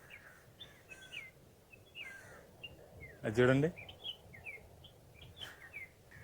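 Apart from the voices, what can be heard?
birds calling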